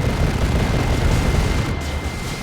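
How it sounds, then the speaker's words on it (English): An artillery barrage in the strategy game Dawn of War 2, a dense rumbling roll of explosions and booms, loud and continuous throughout with no clear gaps. "Here comes the barrage."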